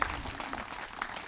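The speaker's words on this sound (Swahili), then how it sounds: "Hebu nisikie makofi basi" Applause from a church crowd at a Sunday youth conference service, a steady wash of clapping that fills the short moment at a moderate, distant level.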